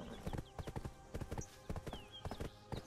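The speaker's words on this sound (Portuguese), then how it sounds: "Ah, tem os cavalos também." Horse hooves clip-clop in the Black Desert video game, a steady run of sharp, close hoofbeats in uneven clusters, loud and clear with no talk over them.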